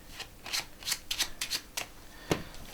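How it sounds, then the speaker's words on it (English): Playing cards are shuffled in quick riffling bursts, several brisk flutters close by, with no talking. "I'll give the cards a good shuffling"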